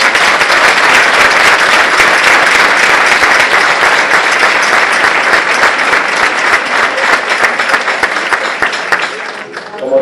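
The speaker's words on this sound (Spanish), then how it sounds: "os pido a todas vosotras un aplauso para todas las mujeres" Audience at an Águedas women's gathering in Torrecilla de la Orden applauds loudly, a dense crackle of many hands clapping steadily for several seconds before thinning out at the end.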